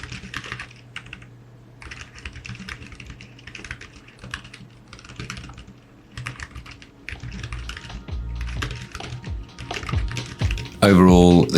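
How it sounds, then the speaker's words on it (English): Plasticky keys clatter on a low-priced Seenda foldable keyboard paired with an e-ink typewriter setup, in bursts of quick close typing with brief pauses, and a voice cuts in at the very end. "the keys sound and they look pretty plasticky"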